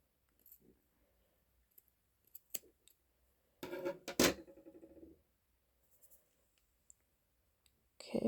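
Scissors snip away ruffled fabric edges: a few isolated quiet clicks, then a short cluster of crisp cuts in the middle, with near-silence around them.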